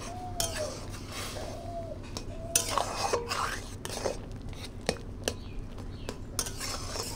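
Broken biscuits being stirred into water in a bowl or pot for malai kulfi, giving soft scraping swishes and scattered clinks of a spoon against the vessel, fairly close over a low steady background hum.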